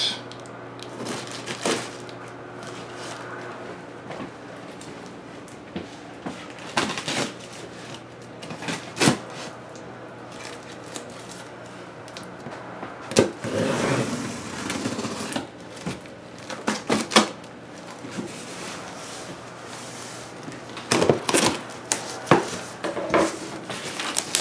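A knife slicing open a cardboard shipping box, with scattered scrapes, taps and rustling bursts spread unevenly over a quiet background, close and fairly faint.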